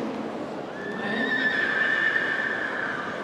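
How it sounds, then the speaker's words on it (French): A horse at a dressage clinic at Equita'Lyon 2023 gives one long, clear neigh lasting about two seconds over a low background murmur of an indoor arena. "Et un cheval très relax et content"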